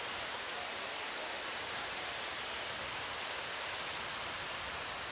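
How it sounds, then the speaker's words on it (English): A waterfall at Ancient Lore Village in Knoxville, Tennessee, a constant broadband rushing hiss of falling water, steady and unbroken, faint in level and with no speech. "Look at this waterfall."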